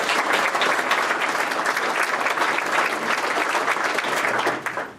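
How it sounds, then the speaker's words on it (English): An audience at a National CTE Letter of Intent Signing Day gives dense, steady applause that rings out evenly and tapers off in the final moments. "let's give a big round of applause for Hannah Peltier"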